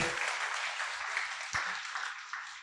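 An audience at a talk on Buddhist ethics and values claps together, a steady, close round of applause that carries through and fades slightly toward the end.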